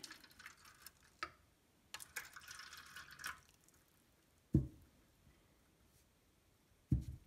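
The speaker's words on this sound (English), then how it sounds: "We're going to put some water in our empty containers." Water trickles and drips into empty pans, with light splashing early on, then two separate louder pours or splashes near the end, close by.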